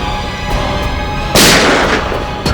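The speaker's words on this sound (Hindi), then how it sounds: "गोली तो मैं चलाऊंगा तुम पर" A single sharp gunshot cracks out during a tense confrontation in a Hindi police crime drama, with a loud blast that decays slowly over a constant noisy background.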